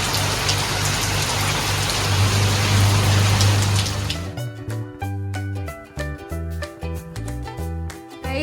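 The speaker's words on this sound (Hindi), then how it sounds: "देखिए आप आवाज़ सुन सकते हो बारिश की," Heavy rain pours down in a dense, steady roar for about four seconds, then gives way to music.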